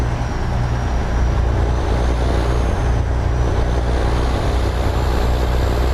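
A truck engine in a trucking video game drones loud and steady, a constant low rumble with broadband road and cab noise holding level throughout, with no talking.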